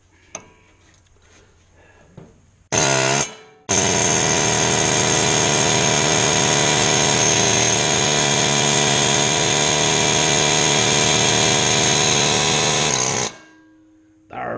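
A compressed-air impact gun works on the brakes and control arms of a 2000 Nissan Maxima, giving a short loud burst, a brief pause, then a long sustained close-up rattling drive that cuts off abruptly.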